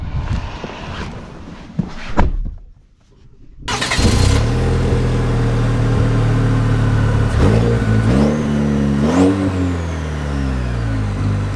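2024 Chevy Colorado Z71 pickup pulling away, a brief clunk and quiet pause before the engine note rises into a steady drone with gear-change shifts in pitch as the truck accelerates.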